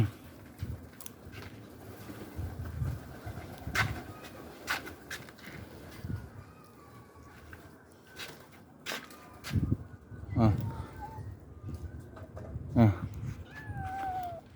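Stray cats meow and caterwaul repeatedly while being fed outdoors, several drawn-out cries rising over scattered soft clatter and footsteps, close and fairly loud, with a person talking quietly at times.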